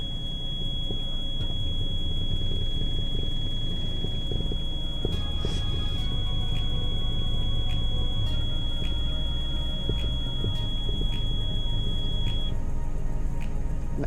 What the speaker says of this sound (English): Our audible alarm has gone off.